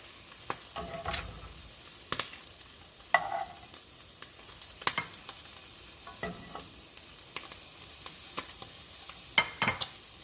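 Tortilla chips fry in a pan for chilaquiles, a soft, steady sizzle broken by scattered crackles, pops and occasional scrapes of stirring, fairly quiet and close, with no voices.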